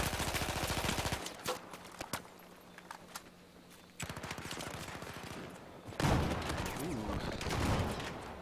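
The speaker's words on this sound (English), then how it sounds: "Nice shots going down there from Uran, able to take down a couple of these players from eLevate as they are making their way into the bomb site" Rapid bursts of gunfire during a competitive esports shooter match, tournament finals with players pushing into a bomb site; clustered sharp shots come in two volleys with a brief lull between, loud and close.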